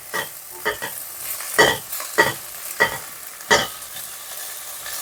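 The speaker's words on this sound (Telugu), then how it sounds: "స్మెల్ పోయేంత వరకు వేగనిద్దాం కొంచెం." Ginger garlic paste fries with onions in a pan, a soft steady sizzle broken by several sharp scraping stirs at irregular intervals, close up with no voices.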